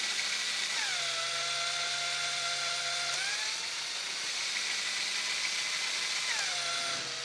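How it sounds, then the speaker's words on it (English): A drill motor spins at steady speed as a demonstration of regenerative braking, a loud continuous whine that drops in pitch twice when a load is connected, then recovers. "I'm holding the drill motor at a steady speed."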